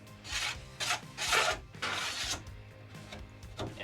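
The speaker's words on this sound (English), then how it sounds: "just take a couple minutes just to, give a little scrape with the razor blade" A razor blade scrapes excess material off a drag car body in bursts of rough rasping strokes, close and fairly loud, pausing between passes.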